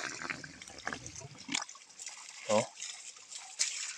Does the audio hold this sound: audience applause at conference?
no